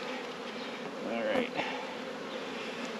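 Honey bees buzz steadily inside an open beehive while queen cells are being grafted, a close, continuous drone with a brief louder swell in the middle as a voice says a single word.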